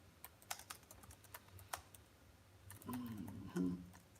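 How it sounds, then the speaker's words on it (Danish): Typing on a computer keyboard during a live online chat session, a run of quiet, irregular key clicks, close and faint, with a few heavier thumps near the end and a trace of voice. "Så jeg skriver det her i chatten."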